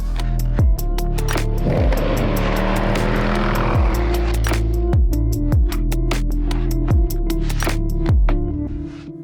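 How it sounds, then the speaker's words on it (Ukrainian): A Jaguar XF X250 V8 engine revs repeatedly with a deep, rumbling exhaust note, rising and falling in sharp bursts close to the microphone. "їдемо пошуршимо там вихлопом, тому що там є чим шуршати"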